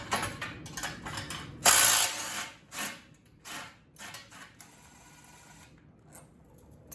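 A ratchet turns an exhaust bolt on a Lifan KPR 200 motorcycle, giving bursts of close, dense clicking with a louder spell near the start, then quieter intermittent clicks and pauses.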